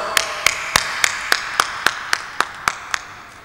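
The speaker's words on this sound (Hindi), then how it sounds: "पुरजोर तालियों में यहाँ पर इस्तकबाल करते हैं हमारे chairman consumer association of Pakistan के जनाब कौकब इकबाल साहब को।" An audience at the 7th Consumers Choice Award 2011 in Pakistan claps to welcome the chairman of the Consumer Association of Pakistan: about eleven sharp, evenly spaced claps in a steady rhythm, close and fairly loud, fading slightly toward the end, with no talk.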